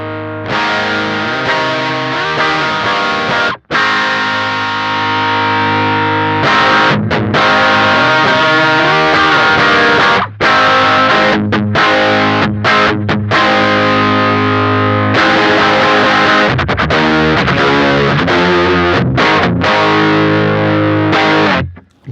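Electric guitar driven through a Tallon Electric Dual Drive overdrive pedal with the gain turned up, playing loud, thick distorted chords and sustained notes alone with a few short breaks.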